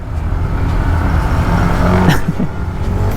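Cars pass on a busy road in Gapan, Bulacan, heard as a loud continuous traffic rumble with a passing vehicle swelling near the end, no talk.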